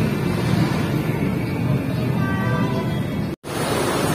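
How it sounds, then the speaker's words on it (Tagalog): Heavy rain pouring down on a street where a tricycle driver waits for fares, a loud continuous broadband hiss that fills the whole clip with a brief dropout near the end. "bumuhusan naman ng malakas na ulan"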